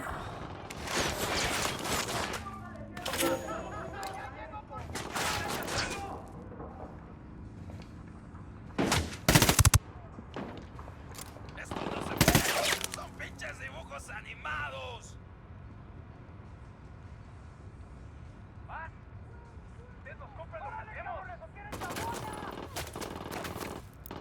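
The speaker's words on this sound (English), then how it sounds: "Opening fire on these fuckers." Gunfire in the video game Ghost Recon Wildlands: bursts of automatic fire crack out in clusters, with several loud sharp shots, then sparser shots later over a continuous background of game noise and a voice.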